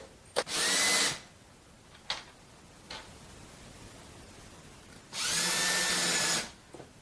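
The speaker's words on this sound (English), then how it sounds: "And I just put 2 screws in for this one." A power drill drives screws into the wooden 2x4 base of a Christmas tree project, with two loud, close whirring bursts of about a second each and a few faint clicks and taps in between.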